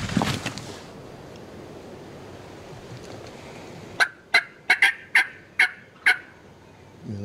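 Wild turkeys gobble repeatedly at close range, six or seven sharp rattling bursts in quick succession after a few quiet seconds, with faint rustling and breathy background before them.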